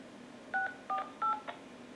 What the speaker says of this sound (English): please enter the following number on your phone's touchtone pad